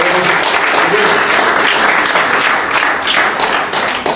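A church congregation applauds the Lord, a dense, continuous burst of clapping close by, loud and sustained from start to finish.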